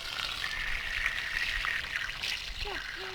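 An outdoor garden tap runs water in a soft, steady trickle on a hot summer day, with a child's and adult's voices speaking faintly over it.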